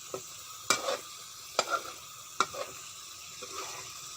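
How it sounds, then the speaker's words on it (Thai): Chili curry paste for fish laab stir-fried in a pan, with a few sharp scraping strokes of a utensil over a low, steady sizzle and no voices. "เราจะต้องผัดให้เขาหอม"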